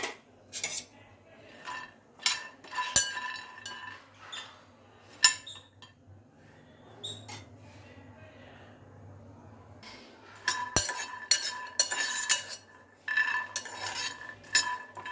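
Peanuts, green chillies and curry leaves dry-roasting in a pan on the stove without oil, with intermittent scraping and clinking of a utensil against the pan, in short bursts separated by quieter stretches.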